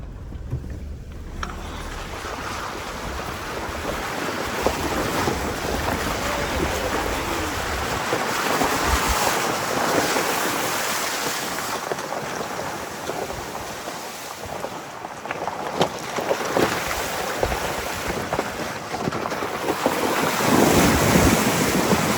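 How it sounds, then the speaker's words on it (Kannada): Vehicle fording a water crossing on a winter trip in Spiti near Kaza, heard as steady rushing, splashing water and heavy wind buffeting the microphone, continuous and fairly loud throughout, with no talking. "ನೋಡಿ ಎಲ್ಲೋ ನೀರಲ್ಲೇ ಗಾಡಿ ಹೋಯ್ತದ ಅಂತ."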